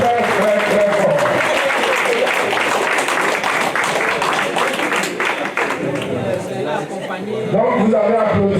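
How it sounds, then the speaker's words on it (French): An audience at an investiture ceremony applauds a newly elected section secretary general, with sustained clapping and scattered cheers and chatter, then a voice speaking over the fading applause. "Donc vous avez applaudi"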